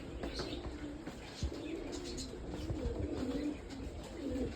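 Pigeons coo in low, repeated throaty phrases at close range, soft and continuous, with some handling and rustling noise mixed in.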